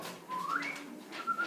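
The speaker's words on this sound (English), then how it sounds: "I'm hearing whistling noises." A person whistles softly, a short rising tune of a few sliding notes with a brief pause between phrases, faint and alone.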